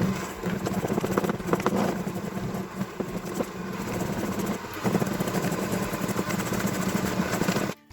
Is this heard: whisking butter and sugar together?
yes